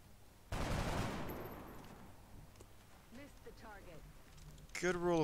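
Gunfire in the tactical video game XCOM: Enemy Within: a loud burst of shots with a long decaying tail opens the clip, followed by quieter game effects, with talk over it.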